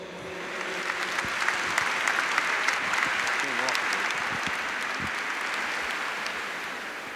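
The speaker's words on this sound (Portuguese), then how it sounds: "Palmas para o Senhor." Audience applause at a Catholic charismatic renewal event in Brazil, a sustained, even crowd clapping that fills the whole stretch with no pauses.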